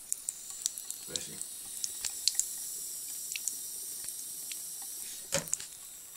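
A tap runs with a steady hiss of water while a cat dips its paw into the stream and drinks, adding soft splashes and clicks; a person's voice is faintly heard.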